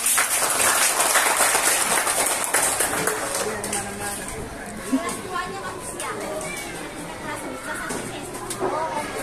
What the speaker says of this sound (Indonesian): Tepuk tangan Suster Helena dong